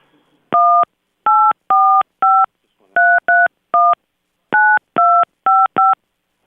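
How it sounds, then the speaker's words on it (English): Touch-tone DTMF dialing on a telephone line while a community radio stream reconnects: about fourteen loud, clean dual-tone beeps in uneven groups, each short and steady, with silence between and no voices. "All right, I'm dialing back up now."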